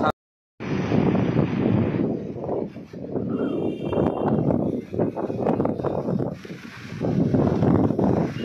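Morning sea waves and wind at Digha beach make a dense, roaring wash of surf and blustery wind that buffets the microphone, rising and falling continuously after a brief silent start.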